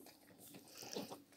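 A dog eats ice cream off a spoon indoors, with a few soft, close licking and chewing sounds over low room noise.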